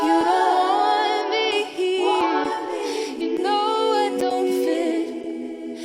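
Several a cappella voices sing in harmony, answering a lead line with the same words set to a different melody, a full close-miked vocal blend with short breaths between phrases.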